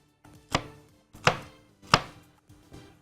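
A knife chops onion finely on a board with four distinct, evenly spaced, sharp thuds, each ringing briefly before the next stroke.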